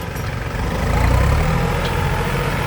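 A three-cylinder Massey Ferguson 4707 tractor engine runs steadily near a rice field in Buriram, a low, throbbing, continuous rumble at close range with a slight rise in intensity midway.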